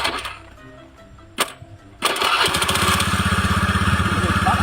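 A motorcycle engine that keeps stalling: a few faint knocks over quiet, then the engine catches and runs loud and close with a steady, pulsing chug to the end.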